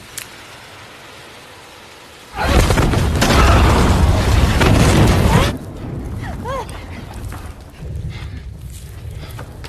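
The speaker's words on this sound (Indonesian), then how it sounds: "terjadi ledakan yang diakibatkan oleh magnesium di sisi lubang tersebut" A flare igniting magnesium veins in cave walls sets off a sudden loud roaring blast that rumbles for about three seconds, then drops to a lower echoing rumble with faint debris sounds.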